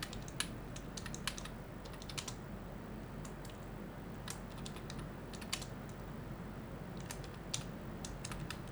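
Someone types a C program on a computer keyboard, producing irregular bursts of crisp keystrokes close by over a quiet room hum, with no voices.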